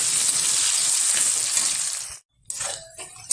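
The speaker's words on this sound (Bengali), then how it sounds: "এই তেলে দিয়ে দিচ্ছি কুচিয়ে রাখা পেঁয়াজ। লাল লাল করে ব্রেস্তার মতন ভেজে নেব" Chopped onion dropped into hot oil left from frying potatoes for mutton biryani, a loud steady sizzle that cuts off abruptly, then resumes more softly with some clatter.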